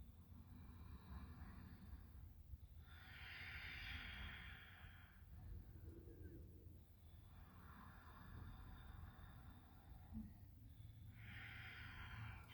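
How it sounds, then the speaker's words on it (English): Slow Ujjayi breathing during chair yoga, three long throaty breaths, each a soft hissing rush lasting a couple of seconds with quiet pauses between, close and gentle. "Couple more Ujjayi breaths here."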